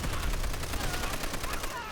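A heavy machine gun hip-fired in Call of Duty: World at War at the battle for Peleliu, firing a fast continuous stream of loud, evenly spaced shots throughout.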